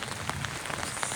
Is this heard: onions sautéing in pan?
no